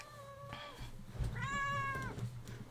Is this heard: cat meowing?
yes